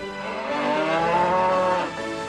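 A cow lets out a single long, drawn-out moo of about two seconds, loud and close, with no other sound around it.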